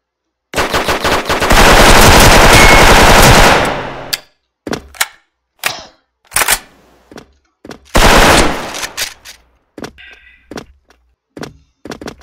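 Video game gunfire rings out as a long, loud burst of automatic fire, followed by scattered single shots and shorter bursts with gaps of silence between them.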